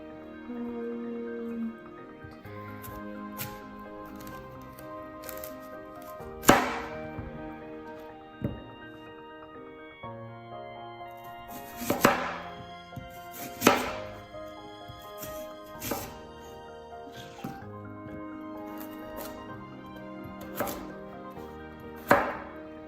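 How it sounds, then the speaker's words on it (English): A knife trims the ends off a white root vegetable on a cutting board, giving a few sharp separate chops spaced over quiet, soft background music. "I'm just gonna cut the ends off"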